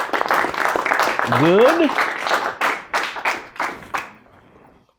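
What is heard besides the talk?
audience applause and clapping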